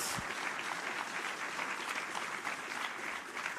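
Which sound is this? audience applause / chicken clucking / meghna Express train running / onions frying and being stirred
audience applause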